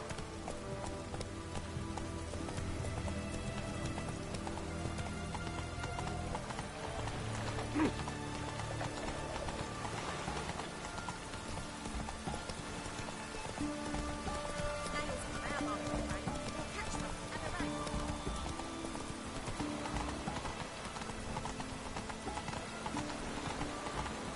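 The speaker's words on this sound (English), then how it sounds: "Run, Roach." Hoofbeats of the horse Roach galloping in The Witcher 3: Hearts of Stone, a steady clip-clop rhythm running under game music and spoken dialogue throughout.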